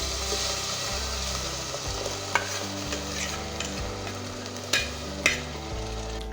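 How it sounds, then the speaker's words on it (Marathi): Tomato paste roasting in oil in a pan for chhole, stirred with a soft continuous sizzle and a couple of sharper spoon knocks against the pan, close and steady. "टोमॅटोची पेस्टसुद्धा अगदी छान भाजून घेऊया तेल सुटेपर्यंत"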